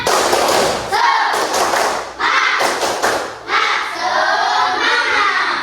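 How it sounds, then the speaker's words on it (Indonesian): A school class does a rhythmic spirit clap together, a patterned run of group claps and thumps with a teacher's voice and children chanting in between. "Tepuk semangat seperti biasa"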